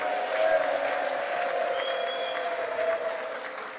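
Audience clapping at a company's annual general meeting, a dense, sustained round of applause from a seated crowd that gradually tapers near the end.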